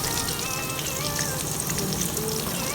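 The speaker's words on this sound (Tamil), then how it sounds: "இந்த ஸ்டேஜில் வந்து நம்ம ஆனியன்ஸ் ஆட் பண்ணிக்கலாம்" Onions frying in oil with browned dal, ginger and curry leaves in a pan for Tamil mor kuzhambu, giving a steady, dense sizzle that runs unbroken throughout.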